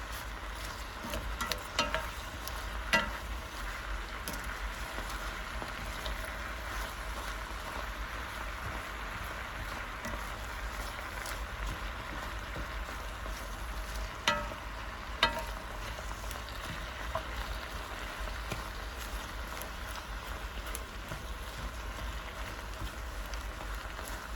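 Seafood lasagna filling simmering and cooking down in a pan, a soft, even bubbling sizzle held low and steady for a long stretch, with a few faint utensil knocks and no talk.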